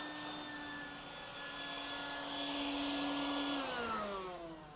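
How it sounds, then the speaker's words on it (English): A vacuum cleaner sucking up sanding dust drones steadily with a high whine, its pitch dropping near the end as the motor note shifts. "Kind of want to vacuum up this dust."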